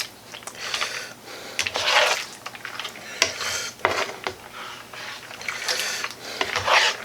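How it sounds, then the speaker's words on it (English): Hamburger Helper mixture is stirred in a pot with a spoon, giving repeated scraping, clinking strokes at close range in uneven bursts, with no one speaking. "I'm just going to mix all in."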